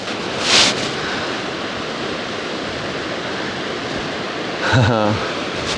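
Waves wash onto a beach in the Lofoten Islands near Henningsvær, a steady broad hiss of surf with wind, interrupted by two short bursts of voices.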